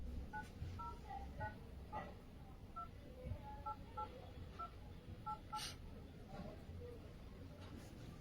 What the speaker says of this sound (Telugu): అలాగే నాగేశ్వరరావు మనవాడికి ఫోన్ చేసి ఇప్పుడే రమ్మని చెప్తాను